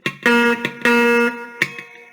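A few clucking muted guitar plucks from chicken picking alternate with sustained twangy notes, close and bright, in a loose, stop-start rhythm.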